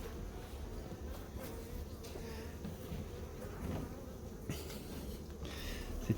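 Honey bees hum in a steady close buzz around a small nucleus hive box while a swarm is being moved from a garden hive, faint and continuous with no one speaking.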